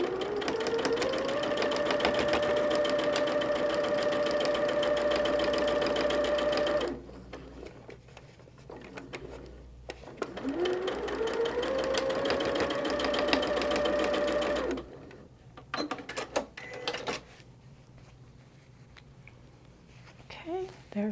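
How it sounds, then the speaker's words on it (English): A sewing machine runs in two long, steady bursts as holiday quilt pieces are sewn together, its motor whine rising then holding, followed by scattered clicks and handling noises. "let's sew that one."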